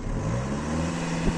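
A 2014 Volkswagen Passat B7 with a 2.0 TDI diesel engine revs steadily, its low, even engine drone carrying on alone with one short rise near the end.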